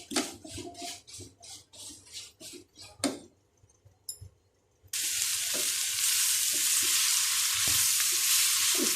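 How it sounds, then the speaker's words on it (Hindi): Spices sizzle in a hot pan, first with a series of rhythmic scraping stirs, then a brief pause, before a loud, steady frying hiss erupts and continues with occasional clinks of the spoon. "अब इसमें ये सारे मसाले डाल के भूनूंगी।"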